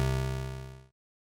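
TAL Bassline square-wave synth bass with a sub oscillator, set to gate and trigger: one sustained, buzzy low note held under a second before it cuts off abruptly.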